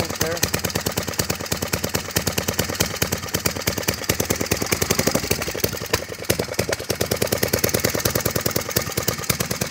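Dolphin motorbike engine idling after a tune-up, a steady rapid chugging pulse, close and loud throughout without pause.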